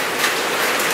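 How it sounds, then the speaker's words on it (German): Steady, dense hiss of rain falling continuously, loud and close with no distinct drops or gaps, heard outdoors in the Philippines. "Es regnet."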